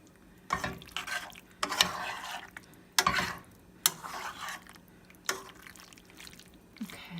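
Mozzarella being stirred into a pot of baked ziti: a series of soft scraping, squelching strokes of a spoon through thick pasta, close and moderately quiet, spaced at irregular intervals with no talking.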